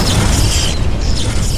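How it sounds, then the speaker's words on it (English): Explosion sound effect in a fantasy action scene, a loud, continuous blast with deep rumbling boom and hissing, crackling upper layers that pulse and swell across the short burst. "With a single devastating explosion, Xiaolong obliterated the organization's leader and reduced their entire base to nothing but ruins."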